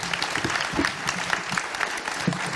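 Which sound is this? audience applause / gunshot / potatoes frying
audience applause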